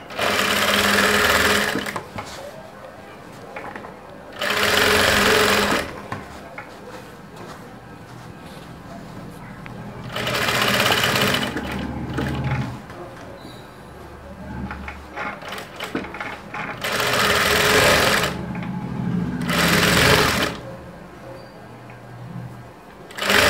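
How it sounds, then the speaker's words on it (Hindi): Sewing machine running a finishing top-stitch along the neckline of a princess-cut padded blouse front, in several loud bursts of steady whirring with pauses between them. "ये देखिए फिनिशिंग की सिलाई लग गई है"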